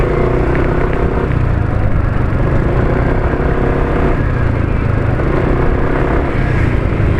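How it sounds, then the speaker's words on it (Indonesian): Steady, slightly rough idle of a motorcycle engine due for an oil change, a continuous close rumble with no talk and no revving. "Suara mesin sudah mulai kasar"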